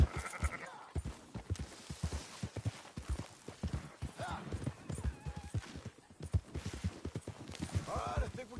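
Several sheep bleat intermittently in Red Dead Redemption 2 while horse hooves clop steadily underneath, the herd moving along with a voice speaking over the din.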